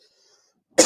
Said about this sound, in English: I got this fucking chronic cough now.